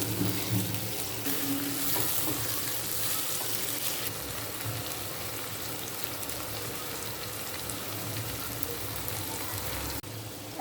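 Beef liver fries in a wok, a steady, even sizzle running unbroken through the whole stretch with no one talking.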